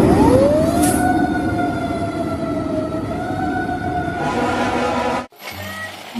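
A large toy fire engine sounds its electronic siren, a steady wailing tone with rising sweeps that runs loud and close for about five seconds before cutting off abruptly, followed by a short burst of clicking.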